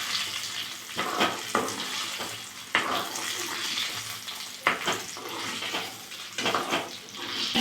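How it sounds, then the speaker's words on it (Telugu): Tempering spices, dried red chillies and curry leaves, crackle in hot oil for a gongura curry, a dense close sizzle punctuated by several bursts of stirring. "తాలింపులు వేసుకుంటున్నాను"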